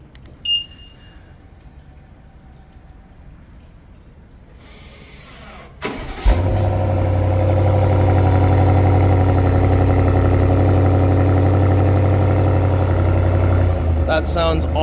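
A 2023 BMW M550i xDrive sedan heard from the back, starting with a sharp burst after a quiet spell with a few chimes, then settling into a loud, steady close-up idle rumble.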